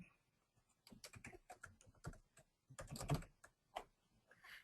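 Quiet typing on a computer keyboard, bursts of rapid key taps with short pauses between, close and alone.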